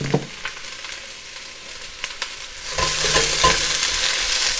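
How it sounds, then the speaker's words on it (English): Chopped onions hit a hot pot with a little olive oil, giving a soft crackle and a few stirring knocks before the sizzle rises into a louder, steady hiss for the last couple of seconds. "I'm going to add all of these onions."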